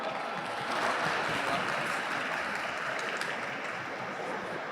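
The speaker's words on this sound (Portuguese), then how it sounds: "Uma salva de palmas." An audience at a business talk on e-commerce applauds as a speaker is called to the stage, with a continuous wash of clapping heard from a distance and a few voices underneath.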